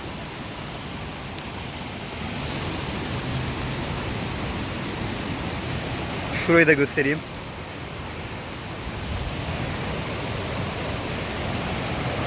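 Water from a waterfall and the Fırtına stream rushes near Ayder in Rize, a steady close broadband roar that never lets up, while a voice speaks briefly in the middle.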